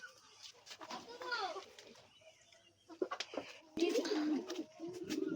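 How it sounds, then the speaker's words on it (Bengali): Pigeons coo softly in a pigeon loft, a few low murmuring calls scattered among nearby voices talking throughout. "আর এদিকে পায়রা ঘর আছে পায়রা ঘরে চলো যাওয়া যাক"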